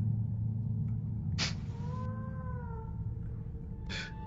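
A black cat's meow played as a sound effect: one drawn-out, wavering cry over a low, steady ambient hum, with short hissy bursts just before and after it.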